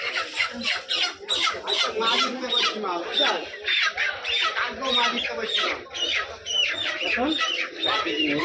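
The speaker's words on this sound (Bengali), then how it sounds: "তারপর চলে আসলাম মুরগির দোকানে মুরগি কিনতে" Chickens at a poultry shop in a market, squawking and clucking continuously at close range, with overlapping calls and voices in the background throughout.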